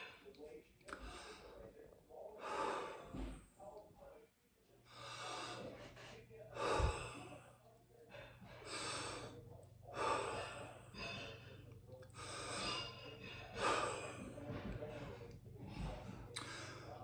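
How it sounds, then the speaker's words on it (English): Slow, audible breathing exercise with repeated long inhalations and drawn-out yawn sighs, close and soft, recurring every second or two over the whole stretch. "we're going to practice breathing again and doing yawn sigh"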